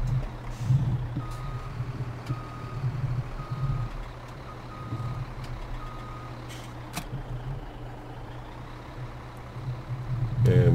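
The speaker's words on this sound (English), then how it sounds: "turning the truck too tight with the trailer" A truck pulling a trailer reverses in Farming Simulator 17, its steady engine drone under repeated reversing beeps, with a louder engine surge near the end.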